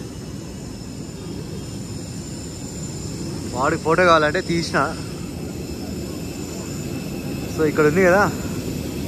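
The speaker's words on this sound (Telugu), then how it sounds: "ఇదే మన ఫ్లైట్ ఇప్పుడు, ఎయిర్ అరేబియా." Air Arabia airplane engines roar steadily in the background at airport terminal 2, while someone talks over the constant drone in two short bursts.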